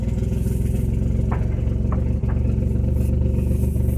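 Mercedes-Benz SL R129 engine running steadily just after a cold start, a close, even idle hum with light mechanical clatter and a few faint ticks, no talking.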